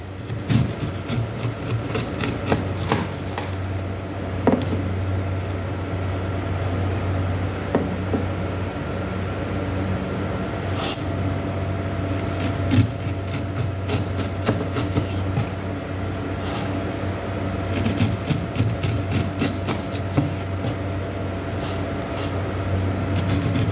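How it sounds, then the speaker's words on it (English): A kitchen knife trims leftover eyes from a peeled pineapple in a steady run of close, rasping scrapes and soft cutting strokes with occasional sharper ticks, continuous and without speech. "I'm just lightly trimming it to remove some of the eyes that were left behind"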